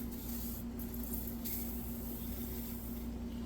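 WD-40 is sprayed into a 1958 Wisconsin AENLD engine, giving a faint, steady hiss that runs unbroken from start to end.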